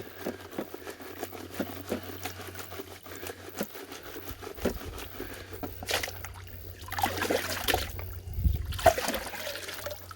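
Water sloshes and trickles as a gold pan is swirled side to side in a stream while prospecting, with uneven splashy surges rising louder toward the end and no one speaking.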